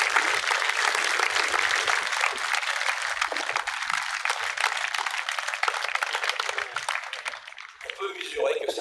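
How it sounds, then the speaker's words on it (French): Sustained applause from an audience at a youth football camp event, dense clapping throughout at steady volume, thinning slightly near the end. "Donc on peut les applaudir"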